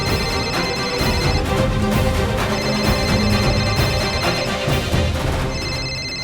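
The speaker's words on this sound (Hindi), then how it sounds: "सिमर का फोन यहाँ पे?" A phone ringtone plays loudly and continuously, a bright repeating melodic tone with no talking over it.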